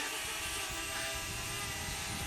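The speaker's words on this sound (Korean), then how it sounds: "산에서 이렇게 드론 날려보는 게 버킷리스트 중에 하나였는데" A DJI Mavic Mini drone flies over a mountain, giving off a continuous high-pitched propeller whine with a steady buzzing hum beneath it, moderately loud and unbroken, with no talking.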